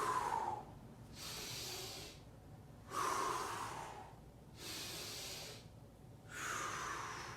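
Heavy breathing during a full-body workout exercise: deep, audible inhales and exhales alternate in a slow, even rhythm of roughly three cycles, close and fairly quiet, with no talking.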